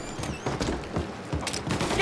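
Gunfire aimed at the player in the Mafia Definitive Edition video game, a burst of sharp shots mixed with game sounds and talk, fairly loud and close throughout.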